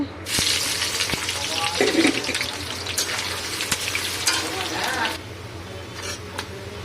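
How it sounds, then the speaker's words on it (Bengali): Onions dropped into hot mustard oil in a pan, a loud steady sizzle that flares and then settles into a continuous hiss with occasional scrapes, fading somewhat toward the end. "তো এখানে সরষের তেল গরম হয়ে গেছে, আমি পেঁয়াজ দিয়ে দিচ্ছি।"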